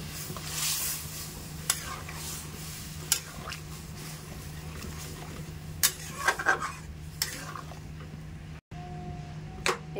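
Boiled dal being stirred into fried vegetables in a pan for veg dal, with a soft steady sizzle and scattered clinks and scrapes of a spoon against the pot, fairly close and with no talk.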